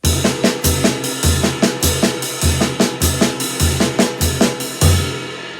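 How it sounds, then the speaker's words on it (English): A drum kit groove with a steady, shimmering ride cymbal pattern over regular kick and snare hits, played loud and up close with no talking. "That is the ride cymbal pattern."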